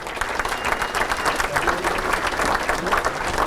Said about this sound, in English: round of applause for Frank Gagliano